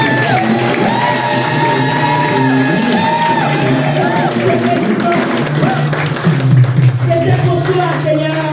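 A church congregation cheers and applauds loudly for Jesus, mixed with shouts and background music, while a voice speaks over the crowd throughout.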